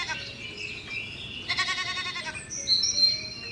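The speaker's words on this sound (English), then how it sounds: "I see a mountain goat climbing near me." A mountain goat bleats in a few wavering, nasal calls that rise toward the end, close and fairly loud over a quiet background, alongside some bird-like chirps, in an animated read-aloud children's story.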